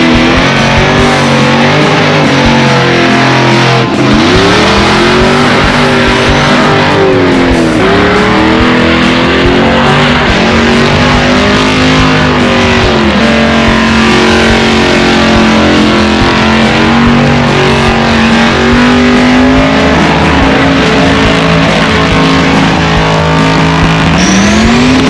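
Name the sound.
burnout car engine revving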